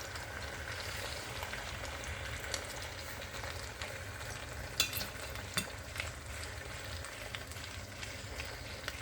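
Meat and potatoes cooking gently in a pan over low heat, a soft continuous sizzle with occasional small pops and clicks, quiet and steady throughout.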